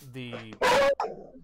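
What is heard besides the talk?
dog barking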